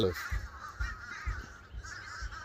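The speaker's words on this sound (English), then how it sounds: "They all up in them trees, them crows." Several crows cawing repeatedly from a moderate distance, overlapping harsh calls with a faint low rumble underneath.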